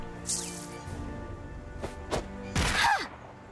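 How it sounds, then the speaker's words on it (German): Firecrackers are thrown in a South Park video game: a few sharp cracks and bursts with sizzling whooshes, the loudest blast near the end, over a steady game soundtrack. "Ach, darauf böllern wir."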